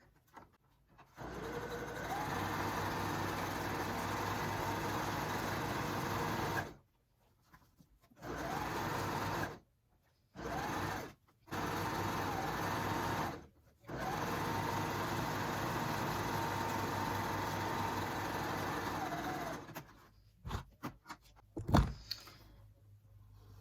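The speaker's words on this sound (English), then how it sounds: "I am going to go over this with a zigzag stitch so that it's supported, even more secure." Sewing machine stitching a zigzag seam on a fabric scrub cap, running in steady bursts with short pauses between them and a few clicks and handling sounds near the end.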